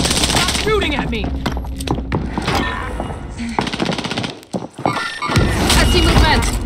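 Rapid bursts of automatic gunfire in a military shooter video game, loud and dense with scattered single shots and clatter, while a player talks over the action.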